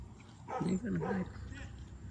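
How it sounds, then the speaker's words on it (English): A dog barks excitedly from behind a fence outside a residence, a short burst of loud, agitated yelps in the middle of the moment over steady background noise. "You see his fence, that dog going crazy."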